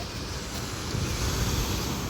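Surf washes onto the beach at Lago Martianez on Tenerife in a continuous broad rush, swelling slightly midway, with wind buffeting the microphone and no talk.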